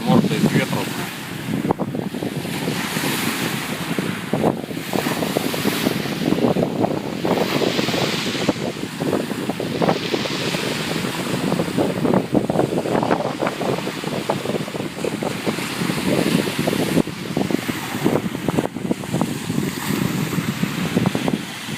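Strong wind blowing in off the sea with surf and waves, a loud, steady roar and buffeting against the microphone throughout, with occasional talk beneath it.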